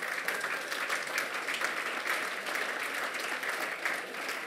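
Applause from the audience at the FC Buchs 100th-anniversary aperitif and speech: even, sustained clapping from many hands, moderately close and steady throughout with no speech over it.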